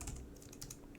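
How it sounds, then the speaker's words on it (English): Rapid clicking keystrokes on a computer keyboard, a quick irregular patter of light taps, close but quiet, with no voices. "I can't see what I'm typing."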